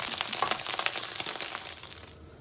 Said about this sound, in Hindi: ये देखिए, हमारा पनीर भून गया है।